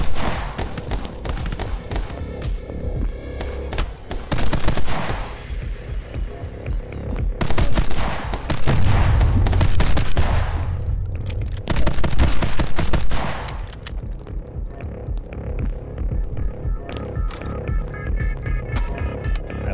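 Gunfire in the My Friend Pedro video game comes in loud, close bursts of rapid shots. Heavy volleys alternate with brief lulls, and a deep booming impact lands near the middle.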